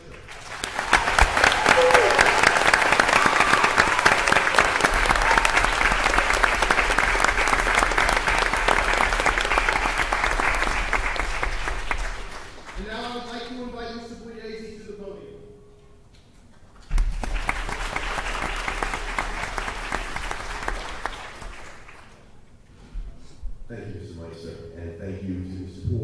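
An audience at a school board meeting applauds the district's music teachers: sustained, dense clapping for about twelve seconds, a short pause with a voice speaking, then a second shorter burst of applause followed by more talk.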